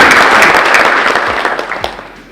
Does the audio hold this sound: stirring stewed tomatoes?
no